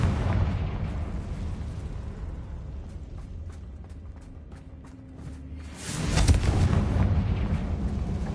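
Confringo fire spell in the Hogwarts Legacy video game, heard as a muffled blast that swells suddenly near the end over a steady low rumble, with a few faint clicks just before.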